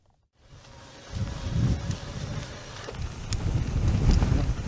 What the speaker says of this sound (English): the wind's picked up a bit here